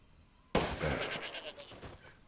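A black goat in the video game Resident Evil Village gives a sudden loud bleat that fades with a wavering tail, following near silence.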